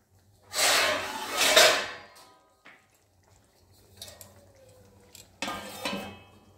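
A metal lid clatters onto a pot of cooking rajma, two clanging bursts of scraping and settling separated by a quiet stretch with a few faint knocks.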